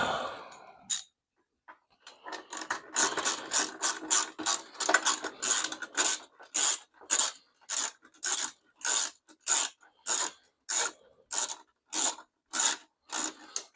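Bolts on a new sissy bar for a Low Rider motorcycle get snugged with a ratchet wrench. Dense clicking at first settles into a steady series of evenly spaced, crisp ratcheting strokes, close by and with no talk.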